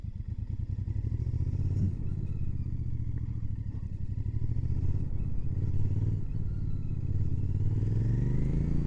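A Royal Enfield Bear 650 motorcycle with a 650 twin engine idles along at walking pace, a steady low rumbling exhaust close by with slight throttle swells and light mechanical clatter, no talking.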